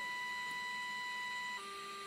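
Faint, steady AM test tone demodulated by a spectrum analyzer's detector, humming over light hiss before dropping to a lower pitch near the end.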